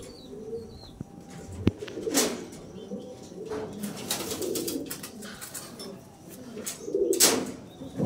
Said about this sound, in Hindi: ये जी एक कबूतर है